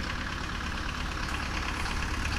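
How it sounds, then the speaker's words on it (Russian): Tractor engine running steadily as it tows a boat past a garden plot in a southern village, a continuous low mechanical rumble with knocking undertone, fairly near and alone. "Трактор едет. Лодку везет."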